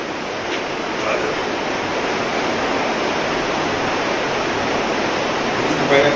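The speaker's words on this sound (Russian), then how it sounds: "Тоже там вода течет" River water flowing inside a cave, a steady broadband rushing and splashing that stays constant and fairly loud with no pauses.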